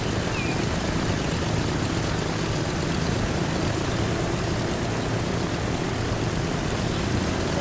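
A plane departs in the Transport Fever 2 video game, a steady, unbroken engine drone holding at constant loudness throughout.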